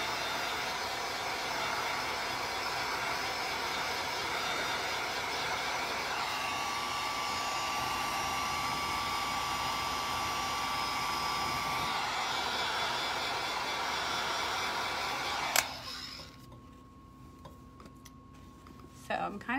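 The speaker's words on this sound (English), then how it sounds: "then I hit it with the heat gun" A heat gun blows on painted metal hardware with a steady, loud airy roar that runs unbroken for about fifteen seconds, then cuts off and leaves quiet room sound.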